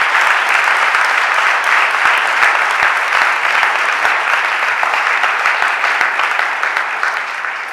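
Sustained, loud applause from the audience fills a city council chamber during a budget address, a dense, even clapping that holds steady throughout and tapers slightly at the end.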